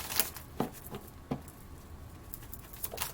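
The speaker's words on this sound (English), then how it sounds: "Shuffle up and deal." Tarot cards being shuffled give soft, faint riffling pats and flicks in an irregular patter, close and quiet with no speech.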